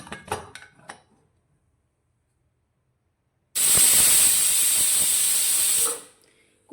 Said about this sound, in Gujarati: કુકરની ચાર વિસલ થઈ ગઈ છે